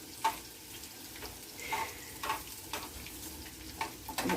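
Onions frying gently in a pan at low heat, a soft steady sizzle with occasional small pops and stirring scrapes, close and quiet, no talking.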